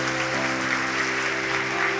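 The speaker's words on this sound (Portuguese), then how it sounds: "Vamos aplaudir o nome de Jesus?" Church congregation applauds during an evening service, a loud continuous wash of clapping mixed with sustained tones from instruments or a held chord underneath.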